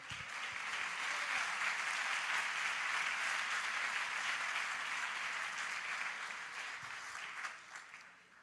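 Sustained applause from a large church congregation during a sermon, steady clapping filling the space and slowly tapering off near the end.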